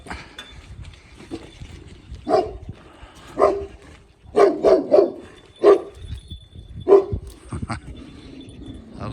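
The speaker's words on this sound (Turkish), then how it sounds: "Bahsettiğim gibi bayağı bir sert bir köpek." A dog barks in sharp bursts, several single and doubled barks spaced irregularly, fairly close against a low background rumble.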